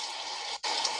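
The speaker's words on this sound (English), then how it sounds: "That's the sound of spring rain." A steady hiss of falling rain, dense and even, with a brief dip in the middle.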